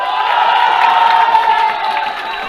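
Crowd cheering and shouting at a wedding beatbox performance in Bangladesh, a dense, loud, sustained roar of voices with whoops, steady throughout and dipping slightly near the end.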